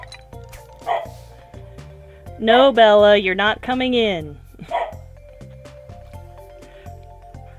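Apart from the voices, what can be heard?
pet dog Bella barking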